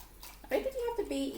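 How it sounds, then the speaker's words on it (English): Water and oat milk poured into a pot for vegan instant ramen, a short splashing pour that starts abruptly and runs about a second, close and fairly clear. "add 250 milliliters of water and 250 milliliters of oat milk with some nutritional yeast"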